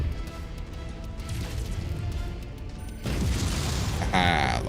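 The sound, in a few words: mech weapon shots in video game MechWarrior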